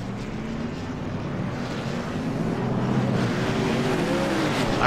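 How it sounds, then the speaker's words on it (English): Race cars drag racing off pit road at a stock car event, a dense roar of several engines accelerating together at a steady loud level, slowly building with shifting engine tones and no talk. "drag race off of pit road"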